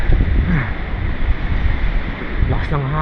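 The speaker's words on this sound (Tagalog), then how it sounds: "Lakas ng hangin." Strong wind buffets the microphone during a rainy ride around Tagaytay, a loud continuous low roar and rumble filling the whole stretch, with a voice speaking near the end.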